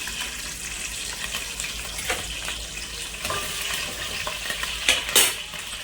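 Green chillies fry in hot oil for a cucumber curry, a close, steady sizzle broken by scraping stirs of a spoon against the pan and a couple of louder clanks near the end.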